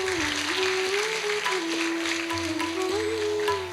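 Applause at a student educational symposium, broadband and steady for the whole stretch, with a sustained tonal hum or drone running beneath it.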